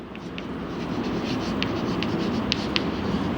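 Writing on a board during an English lecture: a steady run of faint scratchy strokes and light taps over constant room hiss, with no talking.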